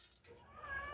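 A cat lets out a single short, faint meow that rises at the end, alone and at some distance.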